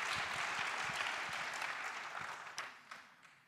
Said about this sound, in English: can we have applause for our three learned panelists?